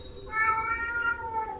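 A cat meows once in the Heroes of the Storm video game, a drawn-out, fairly faint call over low background game ambience, with no voices over it.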